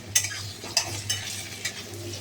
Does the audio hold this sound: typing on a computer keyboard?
no